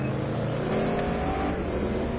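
Race car engine in a racing video game at Bahrain, a continuous loud buzzing drone holding a high, steady rev with slight pitch wavering, no voices.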